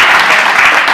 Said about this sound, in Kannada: ಹಾಗಾಗಿ ಒಂದ್ಸಲ ನಿಮಗೆ ನೀವು ಜೋರಾಗಿ ಚಪ್ಪಾಳೆ ಹಾಕ್ಕೊಳ್ಳಿ.